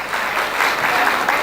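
Loud, full applause from an audience at an award presentation, a short continuous burst of many hands clapping close by, with no speech over it.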